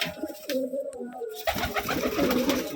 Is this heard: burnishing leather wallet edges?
no